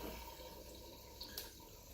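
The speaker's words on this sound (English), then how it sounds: "My sump starts to fill with water, and you can hear it sucking up." Water gurgling and trickling into the sump of a 125-gallon African cichlid aquarium as the pumps shut off, a soft steady wash with a few brief sucking bursts near the end.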